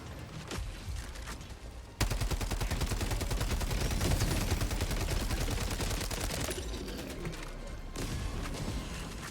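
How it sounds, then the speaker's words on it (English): Machine gun turret firing in the Helldivers video game, a dense rapid burst of sustained automatic gunfire starting abruptly and continuing loud to the end, with lighter scattered shots before it. "Machine gun turret up there, by the way."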